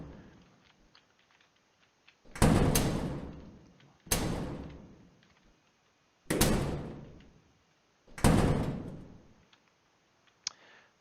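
Four separate door-opening sounds in the Z1 Exceed video game, each a sharp loud onset that fades over about a second and a half, spaced roughly two seconds apart. A faint click follows near the end.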